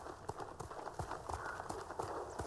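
Horse hooves clip-clopping at a steady trot in the video game Ghost of Tsushima, a quick regular beat of distinct thuds heard alone over soft ambient background.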